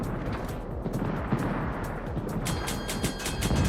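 A naval battle game's ship main guns fire in a salvo, heavy booms and cracking reports repeating over a steady din of distant battle, loud and rumbling.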